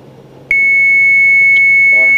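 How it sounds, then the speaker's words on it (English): A TBM850's autopilot disconnect warning sounds as a sharp, loud, sustained electronic tone that begins abruptly and holds steady over faint cockpit engine hum, with a brief extra chirp partway through. "There is an autopilot disconnect. The turbulence made it kick off."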